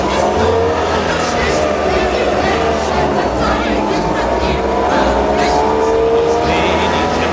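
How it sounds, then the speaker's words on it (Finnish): The engine of a Wartburg 353W Tourist two-stroke car drones and revs steadily under hard acceleration while someone talks over it throughout. "Nyt suoritamme siis heroisen kiihdytysyrityksen 0-100 tuntikilometriin."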